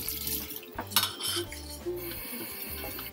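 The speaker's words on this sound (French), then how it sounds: "On fait la vaisselle." Dishes being washed in a kitchen: cutlery and plates clink and clatter repeatedly at close range, with splashes of water and soft scraping against a steady low hum.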